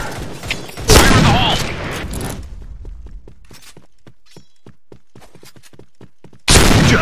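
Gunfire and a grenade blast from the Point Blank online shooter: a loud burst and boom near the start, a run of sharp, evenly spaced shots, then another loud burst at the end, with game voice calls mixed in.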